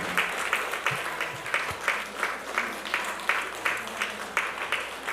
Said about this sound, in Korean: 우리 계속 박수 쳐주세요